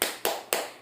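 Children clapping the tepuk semangat chant in a first-grade classroom: three sharp, evenly spaced claps in quick succession, close and moderately loud.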